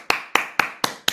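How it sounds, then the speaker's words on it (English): One person clapping after a talk, five sharp, evenly spaced claps about a quarter second apart, close and clear with nothing else behind them. "I'm clapping for the whole audience who I'm sure have been inspired by this amazing talk"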